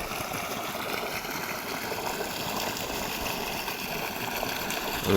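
Water pump gushing a strong stream onto grass in a field, a steady close-up rushing wash with no pauses and no voices.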